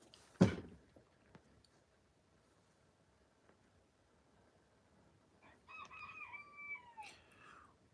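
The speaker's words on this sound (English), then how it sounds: "In the far distance, I hear other roosters too." Roosters crowing from far off on a rural property, a sharp sound near the start, then a couple of faint drawn-out crows later over a quiet outdoor background.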